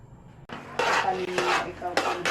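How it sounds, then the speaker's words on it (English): A mix being stirred in a container, scraping and knocking strokes that come in several bursts against a quiet background. "Keep stirring."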